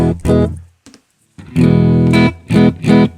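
Electric guitar played through a clean amp tone, bright sustained chords ringing out in separate strums with short gaps between them, loud and close.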